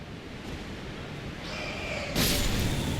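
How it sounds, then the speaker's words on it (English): Steady broadband rushing of a waterfall in the video game Elden Ring (Limgrave), constant and fairly loud, swelling slightly louder near the end, with no voices. "So we've now found a big old waterfall."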